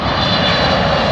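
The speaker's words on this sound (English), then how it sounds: "airplane is coming right in front of me" A loud, close Japan Airlines airplane engine roars steadily with a deep rumble and bright whine as it passes while landing, no voices.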